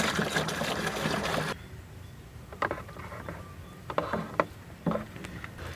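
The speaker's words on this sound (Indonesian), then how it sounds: "Nah, selanjutnya bisa kita aduk." Zychate 25 WP insecticide mixture being stirred, starting with a rushing sloshing burst that stops abruptly, then a series of scattered knocks and clatters against the container, quiet and close.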